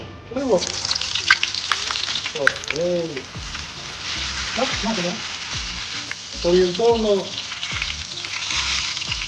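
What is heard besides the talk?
ice cream frying in hot oil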